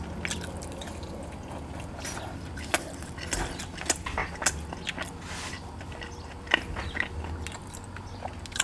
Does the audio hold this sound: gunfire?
no